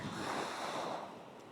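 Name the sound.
ocean waves at La Union beach, Philippines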